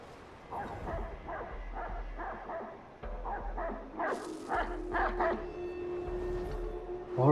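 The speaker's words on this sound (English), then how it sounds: "now that dog is eating, right? That means I can use the wolf cloak." A dog in the video game Assassin's Creed 3 barks in a string of rhythmic yips, then whimpers and whines, fairly close with quiet ambient noise beneath.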